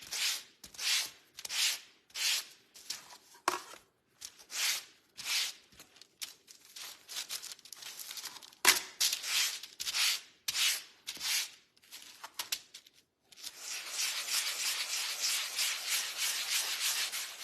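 Sign surface being roughened by hand with sandpaper, rhythmic rasping strokes in quick bursts with short pauses, ending in a longer continuous scrubbing, close and fairly quiet.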